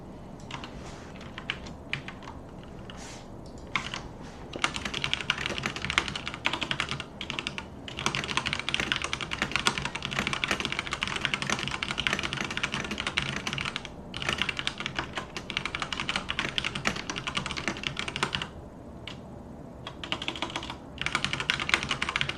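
Continuous typing on a computer keyboard, close and fairly loud, dense clattering keystrokes in bursts with brief pauses, no voices.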